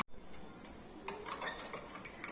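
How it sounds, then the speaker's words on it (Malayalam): Egg and a pinch of salt whisked briskly in a bowl, a run of irregular clinks and taps of utensil against the dish, close and moderately loud with no talking. "ഇത് നല്ല രീതിയിൽ നമുക്കിനി കലക്കിയെടുക്കാവേ"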